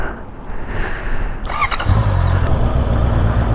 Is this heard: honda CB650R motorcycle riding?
yes